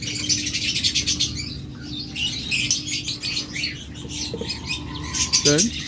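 Caged pet lovebirds or budgerigars chirp and tweet in rapid bursts with a brief rising call near the end, close and fairly loud, over a low background hum.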